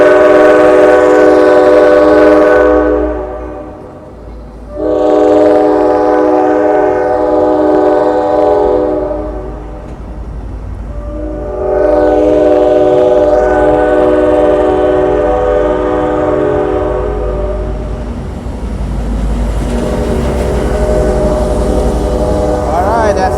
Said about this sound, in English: Beautiful horn sound.